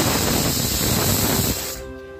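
A pressure cooker cooking chole lets out a loud, sustained steam whistle hiss that cuts off abruptly, leaving a quieter residual tail with faint tonal ringing.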